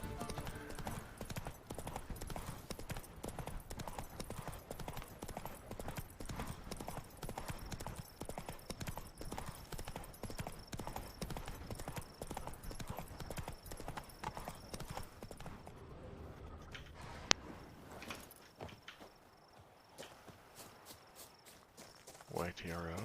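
Roach the horse trots through the Toussaint countryside in The Witcher 3: Blood and Wine, with steady clip-clop hoofbeats under faint crickets that slow and fade toward the end as the horse comes to a stop.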